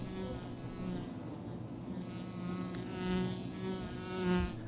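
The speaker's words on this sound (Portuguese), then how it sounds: "as vespas alemãs entram na colmeia e roubam as últimas reservas" German wasps entering a beehive in a tree, a steady dense buzzing of many insects near and continuous, with low droning hum and occasional louder passes close by, no voices.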